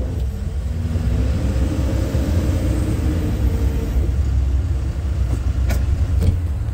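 A John Deere 310SL backhoe loader in first gear and four-wheel drive pushes into a pile, its engine a steady, loud low rumble throughout with brief sharper clanks near the end.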